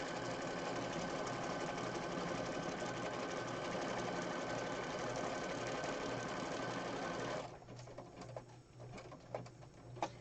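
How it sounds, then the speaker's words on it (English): Sewing machine stitching a zigzag seam across the bottom edge of a junk journal page made from gel prints, a steady close whirring run that stops abruptly, leaving quieter handling sounds. "Rotate it, I'm going to sew across the bottom."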